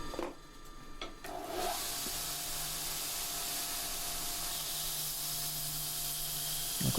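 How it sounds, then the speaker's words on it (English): A coarse belt grinder works the back of a forged half round punch, producing a steady, fairly faint abrasive hiss that starts after a short quiet moment and continues evenly to the end. "So I'm just going to grind it from the back, see if we can"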